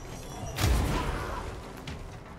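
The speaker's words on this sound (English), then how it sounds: "Damn, I got hit by that explosion?" An explosion in the sci-fi video game Control gives a low, booming thud about half a second in, then a rumbling decay fading over the next two seconds. No one talks over it.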